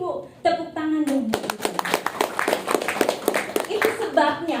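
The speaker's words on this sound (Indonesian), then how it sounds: "Tepuk tangan dong." An audience breaks into clapping at a health product talk, a dense burst of many hands applauding together, loud and close, with voices heard briefly at the start and end.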